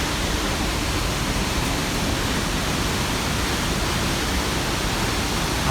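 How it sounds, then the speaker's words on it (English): Greeter Falls, a waterfall running with heavy flow, gives a steady, dense roar of rushing water, close and loud, unbroken throughout with no voices. "There it is, Greeter Falls."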